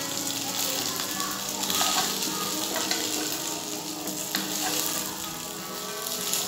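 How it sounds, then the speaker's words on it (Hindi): Pieces of fish fry steadily in hot oil after being turned, a dense, continuous sizzle with faint stirring clicks and no voices. "दूसरे साइड से भी अच्छे से इसे सेकेंगे, अच्छे से फ्राई करेंगे ताकि वो अच्छे से हो जाए"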